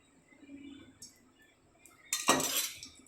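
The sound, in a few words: oil being added to a hot griddle for uttapam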